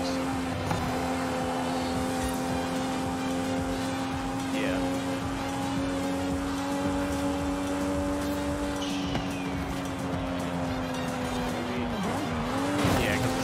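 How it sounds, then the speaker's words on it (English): A car in Forza Horizon 5 fishtailing under braking, a sustained engine drone with long tire squeals that bend in pitch, a voice talking briefly over it. "hit the brake, I started fishtailing it."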